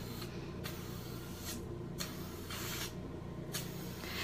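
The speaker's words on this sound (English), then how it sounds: "And you guys can hear that suction." A HydraFacial device's steady hissing suction runs throughout, swelling and easing in several bursts roughly every half second to second, close and fairly loud.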